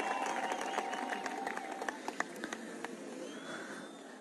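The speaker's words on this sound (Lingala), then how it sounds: "Je vous prie d'applaudir pour lui." An outdoor audience claps for a military commander, with scattered, fairly distant hand claps over a crowd murmur that gradually thin out.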